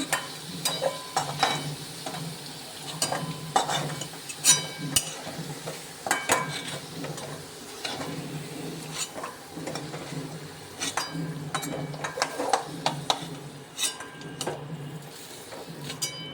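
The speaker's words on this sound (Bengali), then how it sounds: "তো দেখো বন্ধুরা এখানে আলুটা সুন্দর মতো ভাজা হয়ে গেছে।" Oil sizzles steadily in a pan of frying potatoes while a utensil stirs and clinks against the metal in irregular bursts, close up and with no talking.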